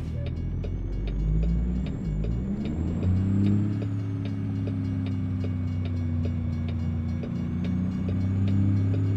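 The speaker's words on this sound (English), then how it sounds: "Man, they know they got some trains out here." A train rumbles steadily past in American Truck Simulator on a Kansas route, with a continuous low roar and engine drone and faint rhythmic clicks of wheels over rail joints.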